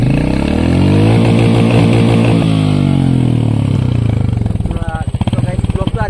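A motorcycle engine runs loud and close on a highway ride from Assam toward Arunachal, a strong steady throbbing drone that rises in pitch, then breaks into a rough pulsing beat near the end.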